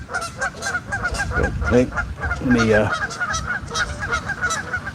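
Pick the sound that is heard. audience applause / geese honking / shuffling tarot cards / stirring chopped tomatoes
geese honking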